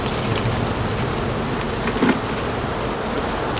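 Honey bees swarm around beehive frames during a spring hive split, a continuous close, dense buzzing hum with a slight swell near the middle, no voices.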